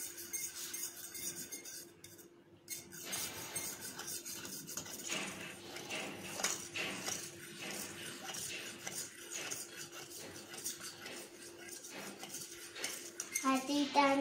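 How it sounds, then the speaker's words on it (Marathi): Eggs being beaten in a bowl, with steady scraping and clinking of utensil against the dish running throughout at moderate loudness, near and without speech. "आता इथे अंडे छान फेटून झाले."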